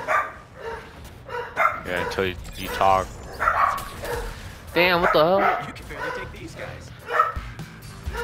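A dog barks and yips in short bursts close by, mixed with whimpering sounds, while people talk over and around it.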